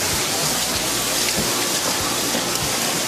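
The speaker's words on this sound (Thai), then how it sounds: "ก็เป็นน้ำตกอะไรไม่รู้แต่สวยดี" Waterfall in South Korea on a cold day, a constant loud rushing roar of falling water, unbroken and close.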